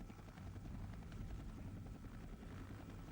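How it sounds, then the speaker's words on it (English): Large CH-46 and CH-47 military helicopters fly in during a Vietnam War airmobile operation, a loud, steady rotor and turbine roar that fills the clip without a break, with no voices. "using large CH-46 and 47 helicopters to deploy 105mm howitzers to landing zones"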